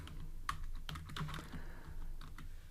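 Quiet, close computer keyboard typing: a short run of irregular key clicks and taps, faint overall, with no voices over it.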